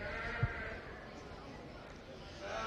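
Ewes bleating during the breeding ewe show at the 2022 Mills County Fair, a single short bleat early on rising over the steady crowd murmur and announcer talk in the show ring.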